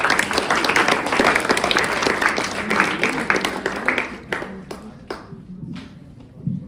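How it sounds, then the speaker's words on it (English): Audience at a school event breaks into applause, a dense burst of clapping that runs strongly for several seconds, then thins out into scattered individual claps toward the end. "Give a big round of applause."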